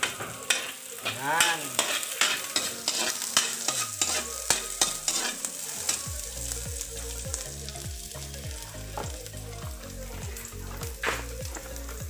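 Garlic and onion frying in a pan while a utensil stirs, steady sizzling with scraping strokes and clatter, close up, and a short spoken word partway through.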